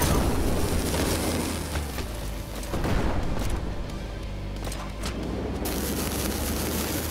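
Repeated booms and bursts from mutants exploding in the horde-survival video game Earl vs the Mutants, a dense, continuous loud barrage with thick rumbling low end that dips briefly and then surges back.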